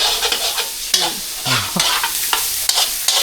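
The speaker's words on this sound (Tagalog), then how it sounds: "Parang ginasa mo sa sarili niyang mantika." Ingredients sauté and sizzle in their own rendered oil in a pan, a steady close frying hiss broken by several sharp stirring scrapes and clinks, with no talking.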